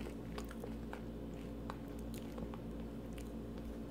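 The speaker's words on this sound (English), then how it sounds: "Yeah, chew them though." A child chewing crunchy cinnamon oat snacks up close, steady soft crunching and squishing, faint and continuous with no talk.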